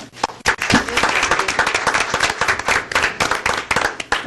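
Loud, sustained applause fills a county commission meeting room, many hands clapping steadily throughout in an even, dense wash of sound close to the listener.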